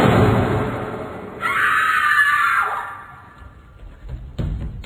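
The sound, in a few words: gunshot and scream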